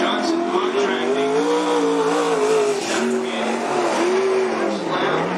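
Race cars lap a dirt oval at Cottage Grove Speedway, one running a TCR chassis, engines droning loud and steady with rising and falling pitch as they pass, tires scrabbling, while an announcer talks over the track noise.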